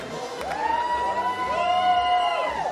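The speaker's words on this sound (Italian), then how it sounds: "C'è una grande eccitazione generale da parte del pubblico, da parte loro." A crowd cheers and shouts with high excited voices at the Venice International Film Festival red carpet for the Dune premiere, rising in swelling waves over about three seconds.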